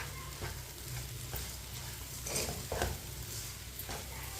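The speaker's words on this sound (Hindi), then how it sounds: "एक कप चीनी डाल लेंगे। चीनी अपनी ज़रूरत के हिसाब से डाल सकते हैं। अच्छी तरह मिक्स कर लेंगे।" Sugar being stirred into besan halwa in a hot pan, a steady soft scraping and gentle sizzle with a few louder strokes midway, close and continuous with no talking.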